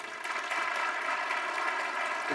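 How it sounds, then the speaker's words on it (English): A conference audience applauds the panelists at a satellite industry general session, a steady wash of clapping that holds at an even level for a couple of seconds. "Let's give our panelists a big round of applause."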